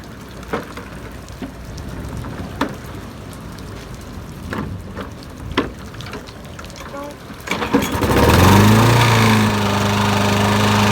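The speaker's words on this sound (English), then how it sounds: "I'm gonna try to start it up right now." A Briggs and Stratton lawn mower engine, just fitted with a cleaned carburetor, is started outdoors in the rain: scattered raindrop taps and faint voices give way to a loud pull-start catch, then a steady, droning idle that holds to the end.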